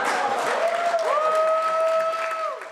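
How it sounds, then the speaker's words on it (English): Applause fills a legislative chamber after a marriage proposal, steady clapping under a sustained whistle-like tone that bends and fades near the end. "Through applause, Glumak got his answer."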